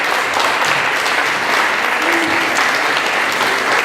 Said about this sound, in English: give all of those fine folks a big round of applause